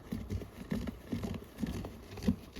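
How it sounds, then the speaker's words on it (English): Soft, close rubbing and brushing of a crocheted yarn glove in a loose repeating rhythm, muffled fibrous swishes with faint crinkly texture, quiet and intimate. "I like crochet sounds of the yarn"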